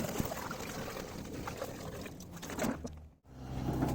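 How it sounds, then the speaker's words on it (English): Water pours and trickles out of a rusty fuel tank from a 1980 Yamaha XJ650, a steady close splashing stream that briefly stops near the end before resuming. "Right, so that's all the water run clear out of this tank"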